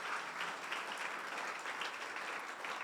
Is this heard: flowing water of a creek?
no